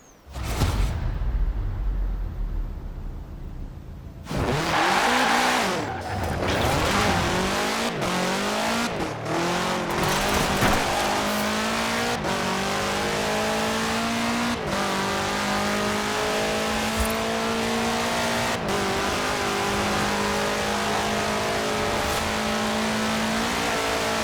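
A car with a 2.5-liter F4 turbo engine races in Forza Horizon 4, revving loudly and climbing through gear changes with rising engine pitch, brief tire squeals and skids, ongoing and close.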